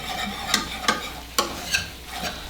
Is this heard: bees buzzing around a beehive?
no